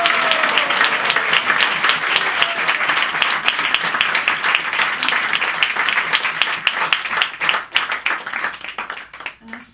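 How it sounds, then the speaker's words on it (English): A crowd of temple devotees clapping in a sustained round of applause at a temple anniversary celebration, dense and loud, gradually thinning out toward the end. "round of applause for their amazing"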